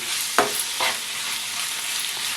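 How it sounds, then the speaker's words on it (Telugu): Prawns frying in a pan with ginger and garlic, stirred with two distinct scraping strokes over a steady, close sizzle; no one speaks. "ఇప్పుడు ఈ రొయ్యలను వేసేద్దాం వీటిని చక్కగా క్లీన్ చేసాం కదా వీటిని ఒకసారి బాగా కలుపుకొని"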